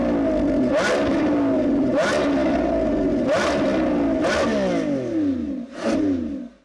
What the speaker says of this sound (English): V12 like this, it sounds great